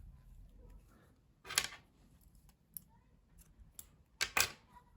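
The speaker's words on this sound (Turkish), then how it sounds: "Pembe renkli ipliği kesiyorum burada." Scissors cut pink crochet yarn in a quiet room, making a few sharp close snips and clicks with near silence between them.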